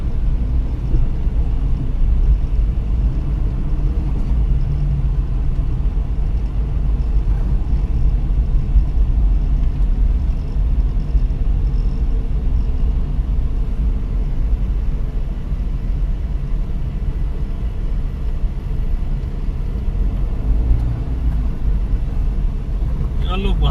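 Car interior rumble while driving through a Delhi traffic jam near AIIMS and Safdarjung Hospital, a loud continuous low engine and road drone with a person talking over it throughout.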